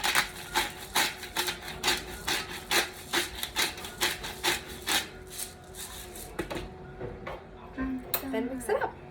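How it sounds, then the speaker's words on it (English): Fresh black pepper ground over a shrimp grapefruit salad, a rapid regular series of short raspy grinding strokes that then trails off into quieter scraping. "And then fresh ground pepper."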